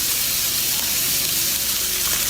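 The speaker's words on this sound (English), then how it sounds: "that's what you want to hear right there, that immediate sizzle" A steady, bright hiss of chicken thighs sizzling skin-side down in hot oil in a frying pan fills the clip, loud and close, with no talking.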